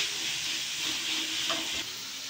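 Onion and carrot sizzle and fry steadily in a pan, a soft and even hiss with faint stirring scrapes midway, heard close up with no talking.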